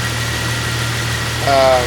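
A Jeep Wrangler 4.0L engine idles with a steady low hum and faint vibration, then a brief louder whine rises near the end, with no talk over it.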